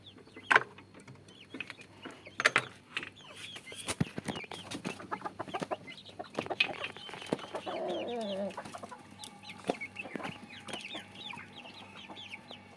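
Chickens are let out of their coop, clucking and squawking in short bursts close by, with scattered flapping and a busy, irregular rhythm.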